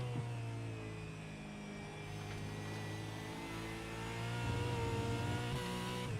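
A V8 Supercar engine drones in a sim racing game, holding a steady buzzing note with strong harmonics that swells slightly louder toward the end, with no voices over it.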